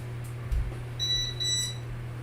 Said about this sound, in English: that beeping you keep hearing is my voltage detector